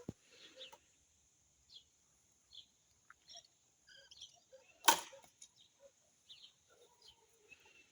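A single sharp bow shot with a whooshing thud midway, surrounded by sparse chirping birds in a quiet outdoor setting.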